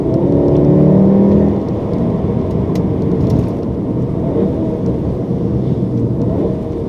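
A Volkswagen Golf R MK7 hot hatch accelerates hard from inside the cabin, its engine rising in a loud steady drone before settling into a continuous rumbling road roar with no talk.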